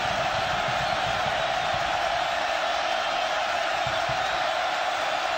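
A stadium crowd roars at a college football game, #1 Oregon at California, as a continuous, broad, even wall of cheering and shouting from a large distant mass of fans that holds steady throughout.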